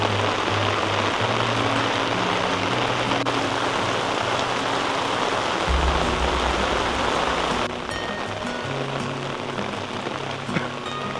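Heavy storm rain pours onto Manila streets in a dense, steady roar, loud and continuous throughout with no voices, thinning slightly toward the end.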